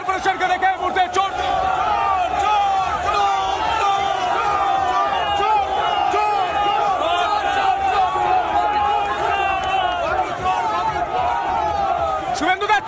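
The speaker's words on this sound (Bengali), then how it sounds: "কেএমসি কলকাতা মিউনিসিপ্যালিটি কর্পোরেশনকে দেখে চোর চোর স্লোগান উঠছে" Large crowd chanting and shouting slogans outside the Kolkata Municipal Corporation, a loud, dense mass of voices sustained throughout with rhythmic rises in the chant.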